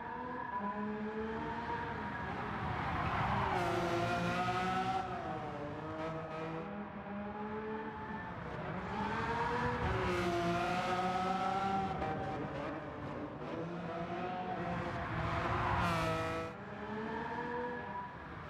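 In Gran Turismo 7, a 2014 Lamborghini Veneno's engine howls loudly through repeated rising and falling revs as it accelerates through gears, fairly close and continuous, with no talking.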